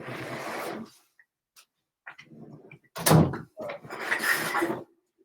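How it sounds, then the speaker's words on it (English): A door is pushed shut indoors with a single solid thunk, loud and close, set between stretches of quiet shuffling and faint movement. "Let me shut down the door."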